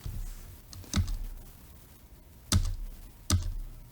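Three separate computer keyboard key presses, sharp and close, spaced irregularly over a quiet room background.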